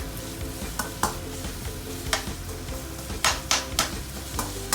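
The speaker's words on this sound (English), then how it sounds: "wok with some oil and garlic. You want to stir fry your onion" Onion stir-fried in a wok with oil and garlic: a busy crackling sizzle broken by repeated sharp spatula scrapes and clanks against the wok, close and loud, with a brief spoken remark over it.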